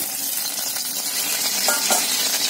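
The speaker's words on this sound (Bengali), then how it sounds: "কড়াইয়ে কাঁচা মাছ দিয়ে দিয়েছি" Raw fish hitting hot oil in a wok sets off a steady, close sizzle and crackle that holds for the whole stretch, with a few sharper spits rising near the end.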